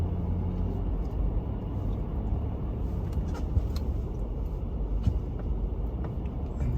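Big truck driving through a snowy Colorado mountain canyon, a steady low engine rumble and road noise heard from inside the cab, continuous and fairly loud with a few faint clicks and knocks.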